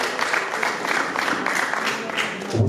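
Guests at a wedding at EPR Remera Rukoma church clap continuously in a dense, steady patter, with voices mixed into the crowd noise.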